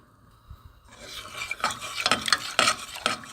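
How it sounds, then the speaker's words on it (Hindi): Milk and sugar stirred in a pan over a low flame, quiet at first, then a spoon scrapes and clinks against the pan in a quick, repeated rhythm. "पहले जल्दी जल्दी हिलाएंगे ताकि शुगर अच्छी तरह से डिज़ोल्व हो जाए"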